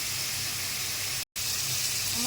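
A slit green chili frying with capsicum and potatoes, turmeric and salt in a pan gives a constant, even sizzling hiss that drops out for a moment in the middle and then resumes, with no talking.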